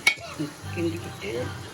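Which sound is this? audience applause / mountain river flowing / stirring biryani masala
stirring biryani masala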